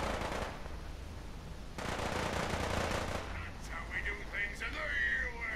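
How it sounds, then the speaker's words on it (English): Distant gunfire from raiders in the video game Fallout 4: bursts of rattling shots that come and go amid game ambience, fairly faint, with some electronic blips toward the end. "I hear shooting from somewhere."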